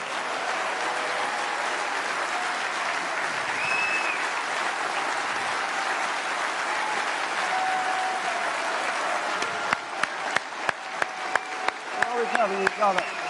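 Audience at a Leave Means Leave political rally applauding the panel of speakers, a sustained wash of dense clapping that thins toward the end into sharper, more separate claps.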